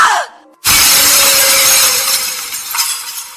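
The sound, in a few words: mirror shattering on wooden floor, sound effect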